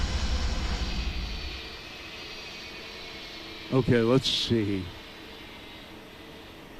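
Jet engines of an Airbus A32X neo in a flight simulator game hold a steady, even hum throughout, slightly louder at the start, while someone speaks briefly over it.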